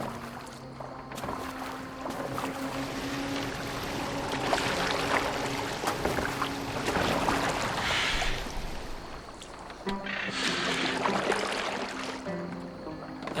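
Boat in Assassin's Creed Valhalla moving across water, a steady wash of rushing, splashing water that keeps going under layered game sound and faint music, fairly loud and continuous throughout.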